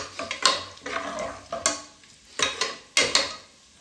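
Whole spices and bay leaves sautéed in ghee in a pan for ghee rice, with a spoon scraping and clinking against the metal in quick bursts over a soft sizzle, close and fairly quiet.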